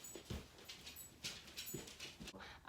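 A dog whimpers and cries in short, faint bursts, a few high whines spread across a couple of seconds with a little low huffing between them, somewhat distant.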